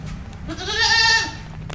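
A goat at a goat farm in Fatehpur lets out a single drawn-out bleat, loud and close, lasting about half a second, over a steady low background hum.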